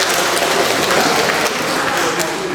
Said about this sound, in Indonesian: ya, silakan tepuk tangan.